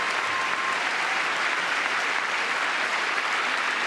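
Steady, dense applause from a crowd, sustained and even throughout with no pauses.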